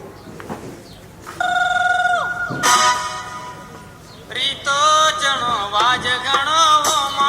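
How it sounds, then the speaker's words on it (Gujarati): A telephone rings nearby in bright, repeated electronic bursts, with a pause between them and a second stretch of warbling rings toward the end. "અરે આ તો દાદા રમેશનો ફોન આવે છે, લાવ ફોન ઉપાડવા દે મને."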